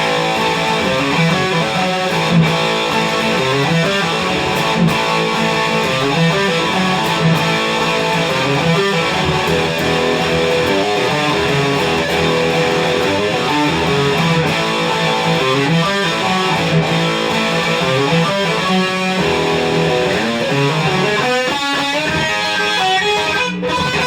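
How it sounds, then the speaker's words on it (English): Heavily distorted electric guitar through a Black Diamond bridge pickup, chugging and ringing chords, thick and saturated, played steadily and loud throughout with no voice. "So this is the bridge, full distortion."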